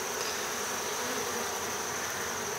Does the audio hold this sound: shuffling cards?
no